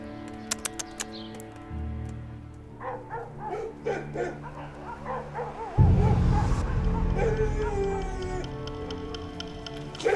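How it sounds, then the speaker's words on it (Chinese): Dogs bark, yip and whimper repeatedly in a palace courtyard, the sharp barks scattered at first and then running into a louder, steadier stretch, with birds chirping faintly in the background. "没日没夜的狗叫"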